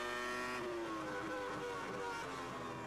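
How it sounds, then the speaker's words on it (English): A Formula One race car at the 2002 German Grand Prix shifts up early at low revs, its loud engine drone holding steady and then stepping down in pitch, heard close and continuous with no talking. "Yes, he's changing up very early now. You could hear using much less revs."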